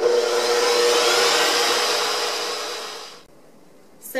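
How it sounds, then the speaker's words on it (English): An electric mixer runs on high speed whipping cold cream for a no-bake cheesecake, a loud steady motor whir for about three seconds that then cuts off, leaving near silence before a brief noise at the end. "So make sure your mixer's in the right position, and just put it on high."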